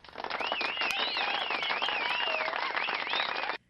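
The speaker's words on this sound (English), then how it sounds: "I got to give you some claps there for you" A small group claps during a live sports talk broadcast: brisk, continuous applause for about three and a half seconds, then it stops abruptly. A thin wavering whistle-like tone runs over the clapping.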